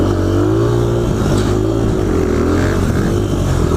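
A dirt bike engine roars loud and close while drifting on snow and ice, holding a steady high rev with slight rises and dips in pitch throughout.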